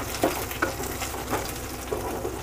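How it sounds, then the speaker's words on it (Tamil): Chopped onions lightly salted and frying in a pan for green peas sundal, a steady close sizzle with soft stirring scrapes on top. "வெங்காயம் வந்து நல்லா வதங்கணும்."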